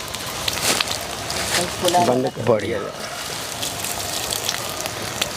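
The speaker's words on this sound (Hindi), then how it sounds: "ये जैसे ही चलाते हैं तो इससे पानी छिड़क देते हैं।" A water sprinkler sprays water over cow-dung vermicompost beds on a worm-composting farm. The spray gives a continuous hissing gush under a person speaking briefly.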